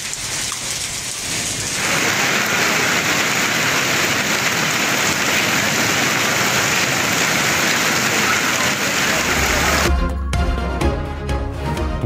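Heavy rain pours steadily in Punjab during a downpour with hail, a loud dense hiss throughout, then sharp clattering impacts near the end.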